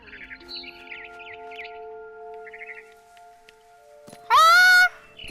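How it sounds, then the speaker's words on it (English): Barn swallow chirping in What Remains of Edith Finch, a single loud, rising bird call bursting out near the end over a quiet ambient game backdrop with faint twittering earlier. "Then I heard chirping outside my window. It was a barn swallow going back to her nest."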